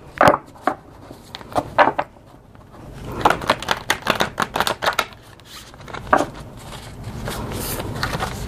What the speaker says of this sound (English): So I'm going to shuffle these cards so that we can pick energy cards out of here.